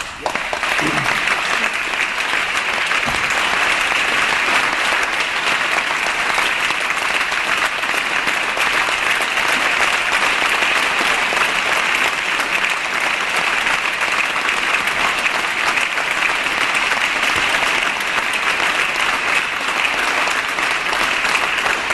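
At a state of the state address by California Governor Jerry Brown, an assembly audience gives long, unbroken applause, a thick steady wash of clapping that stays loud for over twenty seconds with no speech over it.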